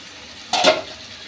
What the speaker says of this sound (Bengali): দেখুন এই যে তেল উঠা অবস্থা পর্যন্ত এই আমি এভাবে নেড়ে নেড়ে ঝোলটা শুকাই নিলাম